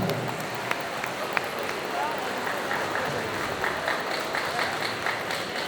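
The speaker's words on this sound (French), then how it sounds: "Applaudissements, s'il vous plaît, pour Océane" Audience applause at a solo cosplay contest at a convention, with steady, dense clapping that continues for several seconds amid faint crowd murmur.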